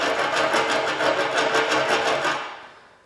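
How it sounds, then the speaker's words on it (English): A chipping hammer scrapes hardened welding slag off a weld in a fast, rhythmic rattling drag that holds steady for over two seconds and then fades out. "This is a chipping hammer here. This is a pretty nice one, but there's all sorts, and you can just drag that along here"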